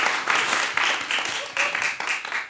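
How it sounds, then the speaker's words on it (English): A church congregation applauds during a worship service celebrating baptisms and new members, the clapping steady and fairly close, a dense wash of many hands that swells and dips slightly without pause. "you can even clap for that"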